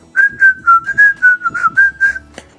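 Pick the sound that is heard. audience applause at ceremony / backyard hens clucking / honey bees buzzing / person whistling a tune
person whistling a tune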